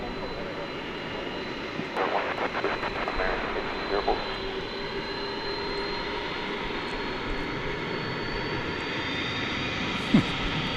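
A Boeing 767 jet at an airport at night gives a continuous low roar and whine of its engines, steady and moderately distant across the whole stretch, with a few faint clicks and thuds.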